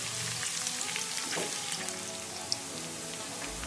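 Onions frying in a pan for bhindi sabzi, a close, even sizzle crackling steadily throughout with one brief tap near the middle.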